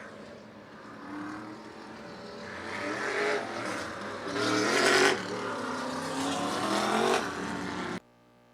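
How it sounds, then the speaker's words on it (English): Modified race cars roll out onto the track in a senior tour auto racing event, engines droning at a moderate distance and swelling in a few louder passes, with no voices. "As we roll out the Senior Tour Auto Racers, it's the Modifieds"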